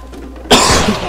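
A single sharp, close cough bursts out midway after a quiet stretch, its noisy rasp trailing off over roughly half a second.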